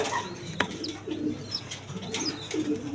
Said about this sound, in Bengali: প্রথম পেয়ার আমার এক জোড়া কবুতরই দেখেন, গররা কবুতর